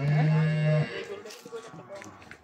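A cow gives a loud, close, drawn-out moo as cattle are loaded onto a vehicle for delivery from a farm, followed by a voice talking and scattered handling noise.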